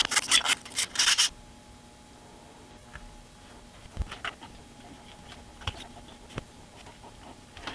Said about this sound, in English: the first thing we have to do is take our file